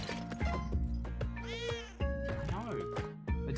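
A cat meows in the Spelunky 2 video game, several drawn-out wavering meows over steady game music and thumps, with a person talking over it.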